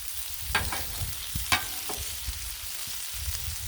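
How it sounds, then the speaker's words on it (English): Turkey burgers sizzle on a Blackstone griddle while being basted with butter, a steady close frying hiss with a few sharp clicks and scrapes of a utensil against the griddle top. "Keep them basted here with the butter."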